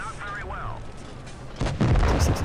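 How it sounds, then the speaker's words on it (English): Heavy cannon blasts from tank combat in the game World of Tanks Blitz, a T62 firing HEAT rounds; loud booming impacts build in the last second after quieter engine rumble and a brief voice. "T62 is pumping heat rounds into me"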